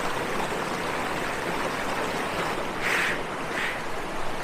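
Tumalo Falls near Bend, Oregon, a waterfall rushing in a steady, loud broadband roar that fills the whole span with no pauses, heard from a short distance and free of talk.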